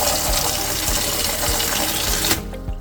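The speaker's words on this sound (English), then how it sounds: "I'm going to drain out the tank upstairs." Water rushes steadily out of an old household plumbing system as the upstairs tank is drained, a loud continuous gushing flow that cuts off sharply near the end.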